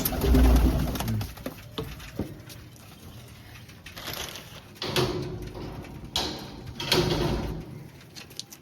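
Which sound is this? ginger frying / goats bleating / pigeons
pigeons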